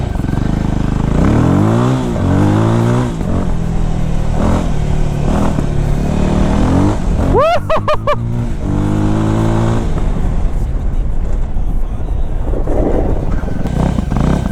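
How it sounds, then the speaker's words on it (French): A Voge 300 Rally motorcycle engine revs up and accelerates hard, loud and close, with the pitch climbing through gear changes before easing off. "On est sur une moto d'essai."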